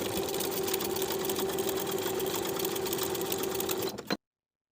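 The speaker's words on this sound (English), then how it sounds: "Edge stitch close to the bottom inner fold with an 1/8 inch seam allowance" A sewing machine edge-stitches along the inner fold of a fabric pocket, running at a steady high-speed whir for about four seconds before stopping abruptly.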